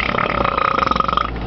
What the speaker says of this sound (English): That was my burp.